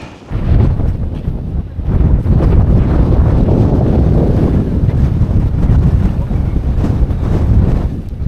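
Strong wind buffets the microphone on a cliff summit in the Lofoten Islands, Norway, roaring in heavy, continuous gusts with a short lull near the start and end.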